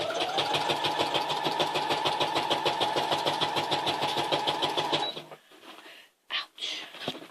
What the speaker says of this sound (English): I wonder why my sewing machine keeps on moving.